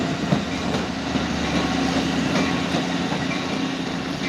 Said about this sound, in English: Oh, it's got the old New Haven cars.